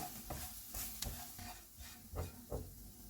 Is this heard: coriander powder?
yes